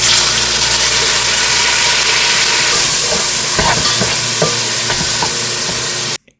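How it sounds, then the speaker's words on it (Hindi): Onions fry in hot oil in a silver pot, a loud continuous sizzle with scraping stirs and clatters in the second half before it cuts off abruptly. "फिर उसके अंदर प्याज डाल के इतना फ्राई करें कि वो ब्राउन हो जाए।"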